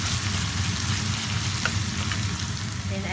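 Leftover rice sizzles and crackles steadily in a frying pan while cooking vegetarian paella, a close, continuous frying hiss with faint stirring scrapes.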